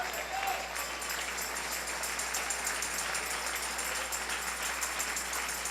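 Steady, dense applause from a church congregation, fairly distant and even throughout with no breaks, under a faint room hum.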